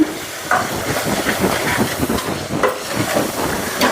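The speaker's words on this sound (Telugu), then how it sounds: "అంతా వేసి కలుపుకొని ఆయిల్ అంతా పైకి తేలే వరకు ఇలాగే ఫ్రై చేసుకుందామండి" Dal curry with turmeric frying in oil in a village kitchen, a steady broadband sizzle and hiss close by with small crackling bursts, continuous and fairly loud with no talking.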